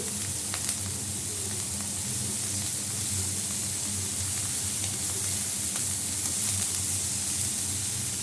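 Leafy greens (shak) added to a pan of softened tomatoes sizzle and fry with a steady, loud hiss that runs unbroken throughout, with a few faint stirring clicks and no talk.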